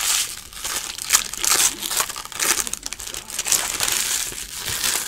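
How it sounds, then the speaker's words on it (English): Foil wrappers of 2018 Bowman baseball card packs crinkle and crumple close by in repeated irregular bursts, crisp and loud, with brief pauses between handfuls and no talking. "Just been opening packs here."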